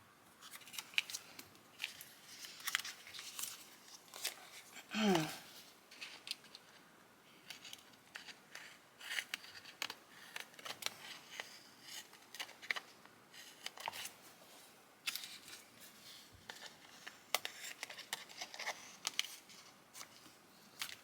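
Scissors snip and trim paper scraps for a handmade card, a long run of quick, close cuts mixed with the rustle and tapping of paper.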